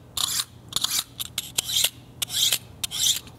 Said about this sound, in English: I've got my sharpener here and I'm gonna make sure my blade is super,